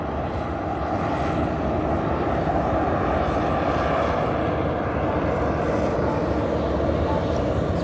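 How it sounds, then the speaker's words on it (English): Jet engines rev at an airport beside the Las Vegas Strip, a loud, steady broadband roar that holds without a break throughout, heard from some distance with no talk. "Hear the engines revving up on one of those jets over there."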